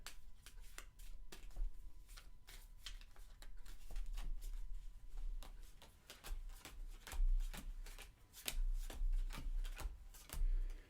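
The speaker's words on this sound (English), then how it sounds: "First, shuffle the cards and deal 3 to each player." Playing cards for a family board game are shuffled repeatedly up close, a series of crisp riffling bursts and soft rubbing at an uneven rhythm.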